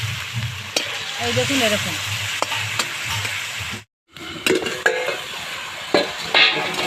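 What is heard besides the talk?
kuche fish (mud eel) being sautéed and stirred in hot oil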